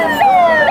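Fire brigade vehicles sound a wailing siren, loud and close, with repeated rising and falling tones sweeping over a low road rumble.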